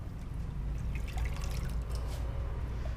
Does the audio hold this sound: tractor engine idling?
no